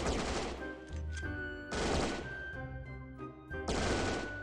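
Gunfire rings out in a CS:GO knockoff video game, three loud bursts of rapid automatic shots, each leaving a ringing metallic tail, close by with no talking.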